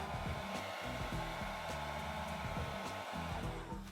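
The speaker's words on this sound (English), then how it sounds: "Maybe I want to blow dry it a little bit." A hair dryer blows steadily at close range while styling a teased 60s-inspired straight wig, a constant rushing whoosh with a low motor hum that barely changes across the clip.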